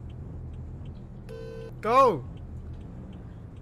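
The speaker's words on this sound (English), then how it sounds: "Your car, I heard your car idling the whole time" A car idles in the Roblox game Greenville, a steady low engine rumble running throughout beneath a short electronic beep and a brief spoken word.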